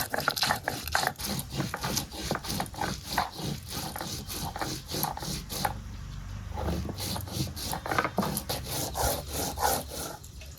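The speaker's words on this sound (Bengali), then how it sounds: "মশলা বেটে রান্না করছি গুঁড়া করতে পারবো না জল দিয়েই বাড়ছি" Wet spices ground with water on a stone slab (sil-pata), making a rough, rhythmic scraping and rubbing as the grinding stone is pushed back and forth, close and steady, with no talk.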